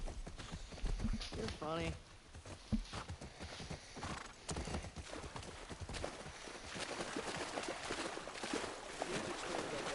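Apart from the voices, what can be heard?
horses' hooves clip-clopping in The Last of Us Part II video game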